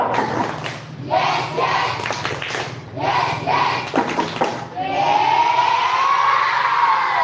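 Children at a Pramuka scout camp clapping the Tepuk Semangat spirit chant, several rhythmic bursts of group claps with shouted voices, then a sustained crowd cheer at the end.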